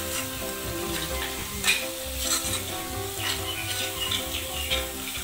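Shrimp curry cooking in fried masala in a pan, a steady moderate sizzle and bubbling with occasional stirring scrapes, no voices.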